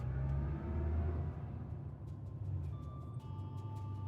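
A car drives along as a radio play sound effect, giving a low, steady engine rumble that eases off slightly partway through. Faint higher tones and clicks appear near the end.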